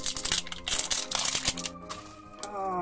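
A zipper on a small toy pouch rasps open in several quick, scratchy pulls with brief pauses between them, close up.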